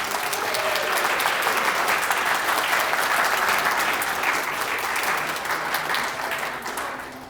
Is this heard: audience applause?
yes